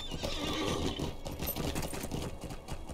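A horse in the Lord of the Rings Online video game: a loud whinny followed by rapid hoof clip-clops, close and without talk.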